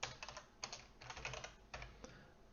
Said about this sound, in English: is just watching me type and type and type.